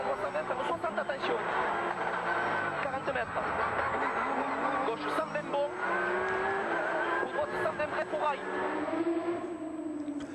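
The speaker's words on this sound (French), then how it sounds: "Les deux Porsche qui passent presque à travers le déluge" Porsche rally cars racing past through a heavy downpour at the Rallye d'Antibes, engines rising and falling in a continuous roar with rain hiss throughout, under a commentator's voice.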